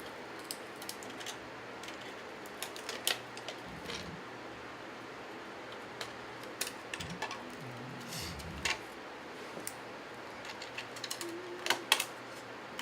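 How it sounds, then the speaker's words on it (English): Needle nose pliers twist and cinch wire while attaching a wood pick in a floral arrangement, giving small scattered metallic clicks, scrapes and rustles, close and fairly quiet, in irregular bursts. "I'm going to twist the wire around it and cinch it off with some needle nose pliers"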